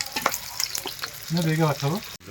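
Onions fry in a hot pan, with close crackles and sputtering pops over a brief, rising tonal hiss.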